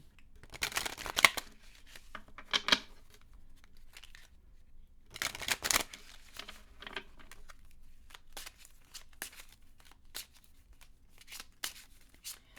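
Playing cards shuffled in several bursts of crisp riffling and flicking, with quieter card handling and pauses between.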